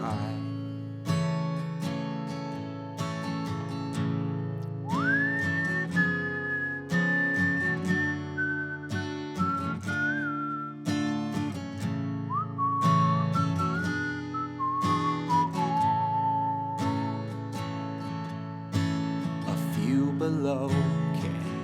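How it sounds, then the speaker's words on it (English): Whistled song melody carried over a full instrumental backing of guitar and piano, long sustained whistled notes sliding gently between pitches, clear and fairly loud throughout with no talking. "So won't you whistle with me, Bluebird Sky?"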